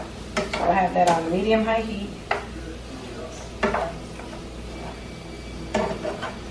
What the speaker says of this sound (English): I want to stir it to make sure that the seasoning gets on all of these big pieces.